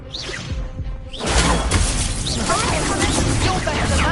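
Incendio fire spell cast in the Hogwarts Legacy video game: a sudden loud burst of crackling, shattering energy that swells and holds to the end, after a quieter stretch of whooshing spell sounds and a voice.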